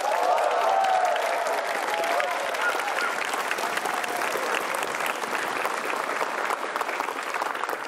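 A studio audience at a stand-up comedy show claps loudly to welcome a guest, a thick sustained roar of applause with faint crowd voices, slowly easing toward the end.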